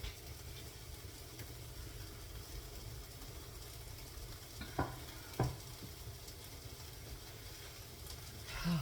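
Breakfast food frying in a pan while being stirred: a faint, steady low sizzle with a couple of soft clicks, quiet and distant-sounding, no speech.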